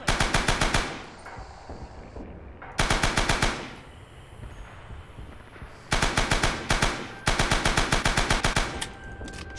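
In the Rising Storm video game, a machine gun fires loud, close rapid bursts of rattling shots in several separate volleys, with short quiet pauses between them.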